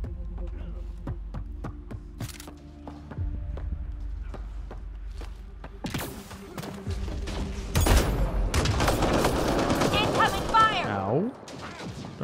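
Gunfire rattles through a firefight in Mass Effect: Andromeda, with sharp repeated shots and a low hum at first, then a denser, louder barrage of blasts and whooshing effects near the end.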